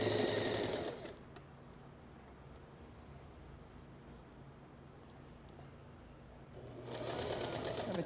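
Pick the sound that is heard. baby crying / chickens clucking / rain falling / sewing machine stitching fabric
sewing machine stitching fabric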